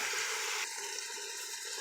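Water runs into an Instant Pot with chicken already inside, a soft continuous pour whose tone shifts partway through as the pot fills, quiet and close with no talk.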